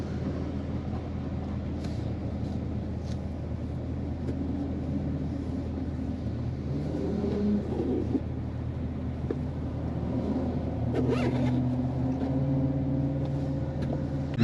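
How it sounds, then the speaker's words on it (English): Cars arriving at an all-Ford meet in Geelong, with old Falcons pulling in: a steady low engine rumble runs throughout, and a couple of idling engines and a tonal exhaust drone rise near the end, with no talk. "Some of the cars are pulling up."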